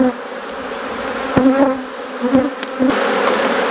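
Loud, close buzzing rises from an Africanized honey bee colony in hive boxes, a steady drone broken by a few sharp knocks and clatters of equipment, with no one talking.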